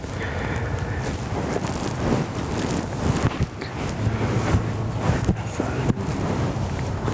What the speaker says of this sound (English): the wind is, we got a north wind